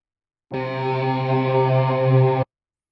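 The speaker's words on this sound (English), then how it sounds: "my Telecaster through some kind of distortion pedal, probably my Big Muff" A sustained guitar drone from a Telecaster run through a Big Muff distortion pedal, layered as a Kontakt instrument: a thick, steady, harmonically rich tone that starts abruptly, holds evenly for about two seconds, then cuts off cleanly.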